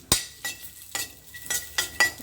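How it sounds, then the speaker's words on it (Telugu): Chopped cashews fry in ghee with a steady soft sizzle, broken by several sharp scraping and clinking strokes of a spoon against the pan at a slow, uneven rhythm, close and fairly loud, with no talking. "నెయ్యి వేసేసుకొని ఇవి కూడా జీడిపప్పులు కూడా వేద్దాం."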